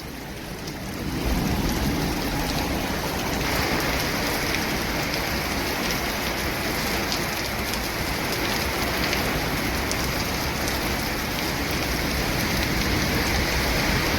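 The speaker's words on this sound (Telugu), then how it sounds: "బాగుపడుతుంది వాన." Heavy rain pours down steadily, a dense continuous hiss that starts after a moment and holds at an even, loud level throughout with no talking, during a windy storm.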